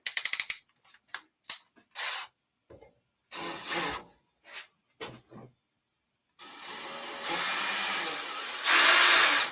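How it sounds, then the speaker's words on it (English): DeWalt drill boring through a magnet, several short loud bursts of motor whine separated by silences, then a long continuous drilling run that grows louder near the end. "you can say this thing drilled through a magnet"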